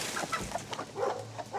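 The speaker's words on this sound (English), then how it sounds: "Those chickens are ready to eat." Chickens in a chicken house cluck and chatter together at feeding time, a steady busy flock sound at moderate distance with no talking.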